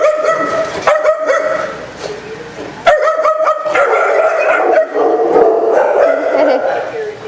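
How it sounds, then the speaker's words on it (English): Puppies bark and yip in sharp, overlapping bursts, close and loud, with whimpering between the yaps and a lively jumble of small dog voices throughout. "Here, let's see the puppies."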